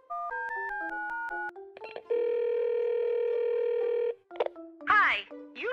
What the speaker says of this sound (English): so please dial his number for me.